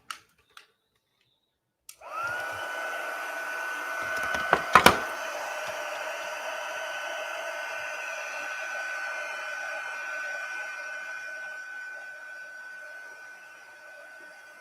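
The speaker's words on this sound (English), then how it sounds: "Now I'm going to heat set." A heat tool blows steadily while heat setting a mosaic craft card, a constant whirring hiss that starts suddenly after a few clicks and runs close and unbroken to the end.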